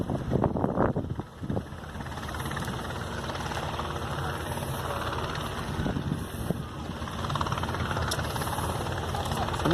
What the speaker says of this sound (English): I can see a helicopter in the distance.